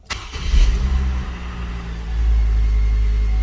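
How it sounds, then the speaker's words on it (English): A Hummer H3 engine cranks briefly, catches and settles into a loud, low idle rumble heard close up, with the revs dipping and then rising to a steadier drone. "I'm gonna start the vehicle."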